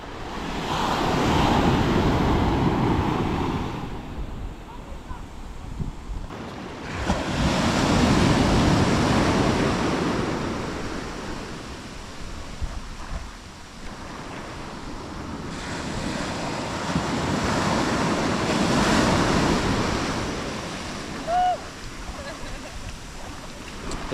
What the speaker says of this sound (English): We are at Libanuna Beach in Fort Dauphin.